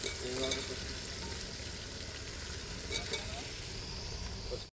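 Okra sizzling steadily in hot oil in a pan, with turmeric going in, a continuous close frying hiss with a few faint stirring clicks and a speaking voice in the background.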